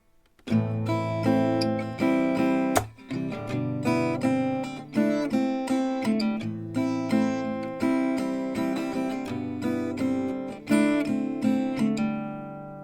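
An acoustic guitar plays the melody of a song alone, each plucked note ringing clearly with steady rhythm and a final fading strum.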